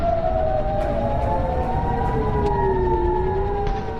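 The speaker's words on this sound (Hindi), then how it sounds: "खाड़ी के देशों में इस वक्त सिर्फ वॉर सायरन बज रहे हैं।" War sirens sound across Gulf countries during Iran-Israel fighting. Several loud wailing tones rise and fall over one another continuously, with no speech.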